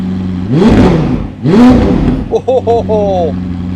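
A McLaren 750S supercar engine revs sharply twice, each roar climbing and falling, followed by a brief voice as the noise settles.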